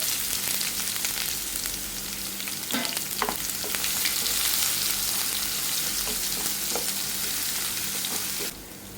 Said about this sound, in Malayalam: കടുക് പൊട്ടി വരുന്ന സമയം കൊണ്ട് നമുക്ക് വെളുത്തുള്ളി ചതച്ച് വെച്ചിരിക്കുന്ന അങ്ങോട്ട് ഇട്ട് കൊടുക്കുകയാണ്